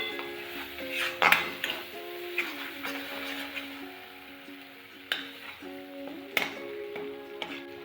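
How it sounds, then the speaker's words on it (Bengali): Turmeric and ground spices are sautéed in a pan for a vegetarian pointed gourd dish in mustard sauce, with quiet sizzling, spoon stirring and sharp metal clinks over soft background music. "হলুদ, মশলাগুলো একটু কষিয়ে নেব।"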